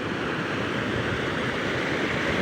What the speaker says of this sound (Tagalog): Lakas po ng agos ng tubig guys.